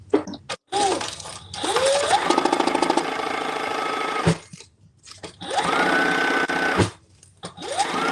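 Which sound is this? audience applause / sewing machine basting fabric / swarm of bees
sewing machine basting fabric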